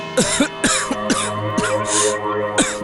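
A man coughs repeatedly in a courtroom setting, about five harsh, throaty bursts spaced roughly half a second apart, close and fairly loud, with no other voices.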